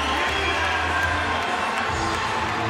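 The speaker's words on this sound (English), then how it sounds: "Colin Moore gets a nice round of applause as he makes his way on the center" Crowd at a college wrestling dual meet, Ohio State's Kollin Moore at 197 lbs, gives a steady, loud wash of applause and cheering that fills the whole stretch without letup.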